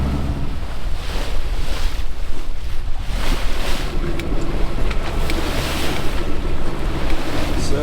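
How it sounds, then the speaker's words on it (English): Big winter swells of the North Sea slam and wash against a small boat, with heavy rushing surges, splashes and gusting wind noise buffeting the microphone, loud and close with no speech. "It's some big swells here."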